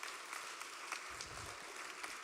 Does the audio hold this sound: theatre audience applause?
yes